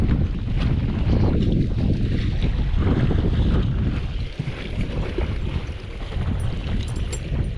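Strong wind buffeting a bass fishing boat on open water, a loud steady roar of gusts across the microphone with water lapping beneath, no talking.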